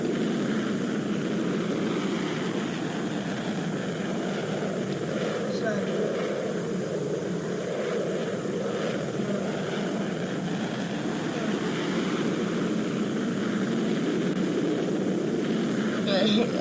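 A steady, continuous engine drone from a Blackbird aircraft landing at an airport in a video game, constant in level throughout with no clear change.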